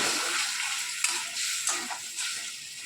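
Stuffed okra being stirred in a pan with poppy seed paste and water, a soft scraping stir with a light sizzle running steadily under a few louder spoon strokes, close and with no talk.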